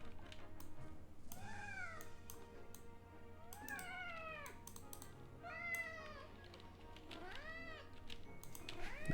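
A cat meows indoors four times in drawn-out, rising-and-falling calls spaced a couple of seconds apart, fairly close. Computer keyboard typing clicks along quietly underneath.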